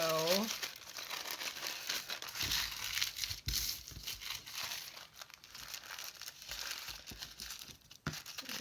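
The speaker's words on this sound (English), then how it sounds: "put some wax paper in here so I don't leak glue onto my page" Wax paper crinkled by hand at a crafting table, with close, irregular crackling and rustling over about eight seconds and a voice talking at the start and end.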